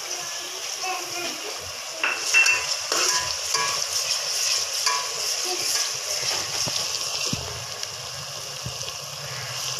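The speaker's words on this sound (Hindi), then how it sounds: "इन्हें काट के हमने फ्राई करने के लिए रखा है" Chopped ingredients for chicken tikka biryani frying in a pan with a steady, close hiss and sizzle, broken by occasional stirring scrapes and clinks.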